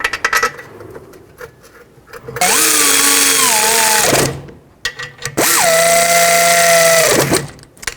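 Power tool driving the rear brake caliper bolts on a 2010-2016 Cadillac SRX: two loud whirring bursts of a few seconds each, pitch dipping as the bolts seat, separated by a short pause.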